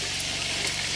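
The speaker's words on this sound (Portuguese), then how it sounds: "Perdizinha fritando ali, ó." A partridge fries in a pan with a continuous, dense, close sizzle and crackle, a faint low hum running underneath.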